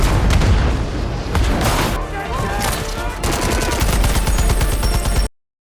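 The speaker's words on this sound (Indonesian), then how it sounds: "memicu baku tembak." Film gunfight with heavy bursts of rapid gunfire and booming shots layered over dense action sound, loud and continuous before cutting off abruptly at the end.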